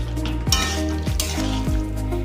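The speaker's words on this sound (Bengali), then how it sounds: "গরম মশলার গুঁড়ো, এইগুলো দিয়ে একটু নাড়াচাড়া করে আমি আমার ঢাকা দিয়ে দেবো।" A spoon stirs kofta curry with ghee and garam masala in a hot pan, giving a few scraping strokes over a continuous sizzle and the odd clink of metal, close up and with no voices.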